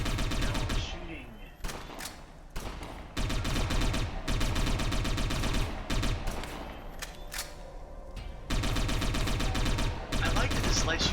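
Uzi submachine gun fire in the video game Satellite Reign, rapid bursts crackling in loud repeated volleys with short pauses between them, over game music and effects.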